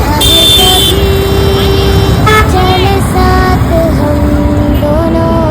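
Fast traffic on a large highway with repeated car and truck horns honking, some long and some short, over a loud, constant roar of passing vehicles.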